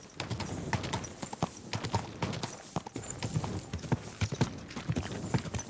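Horse hooves clip-clop steadily in Kingdom Come: Deliverance II, a rapid, close rhythm of hoofbeats on ground that continues throughout, with no talking over it.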